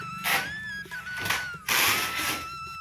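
A power screwdriver drives screws into sofa legs in three short whirring bursts, close and loud, separated by brief pauses, with a steady tonal motor whine running through.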